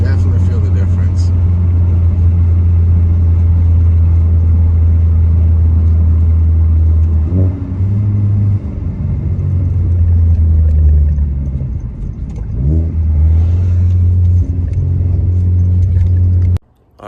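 A car fitted with a new strut bar drives a canyon road, its engine a loud, close, steady drone that dips and rises through gear changes and revving.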